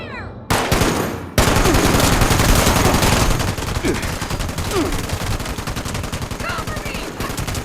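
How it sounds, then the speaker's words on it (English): Sustained suppressing gunfire from Fallout 76's Steel Reign, a dense, loud automatic rattle of rapid shots that kicks in after a brief opening burst and runs almost unbroken to the end, with bullet impacts layered through it. "Suppressing fire!"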